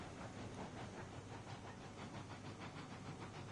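A train rolling along track in the video game Railroads Online, a steady, dense rumble and hiss with faint rhythmic clatter, continuous and fairly close, with no voices.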